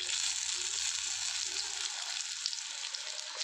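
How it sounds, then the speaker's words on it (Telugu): Green chillies for mirchi bajji sputter and spatter in hot frying oil, a dense continuous crackling sizzle heard up close with no talk over it. "ఆయిల్ దగ్గర అది మిర్చి అనేది కొంచెం చిట్లుతుంది"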